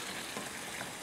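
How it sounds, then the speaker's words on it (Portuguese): Seafood sauce for spaghetti sizzles steadily in a pan as it is stirred, a continuous close frying hiss with no talk. "Já foi para a panela, já tô aqui misturando."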